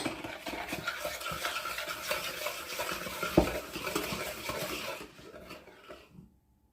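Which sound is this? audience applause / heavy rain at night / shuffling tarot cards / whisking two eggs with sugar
whisking two eggs with sugar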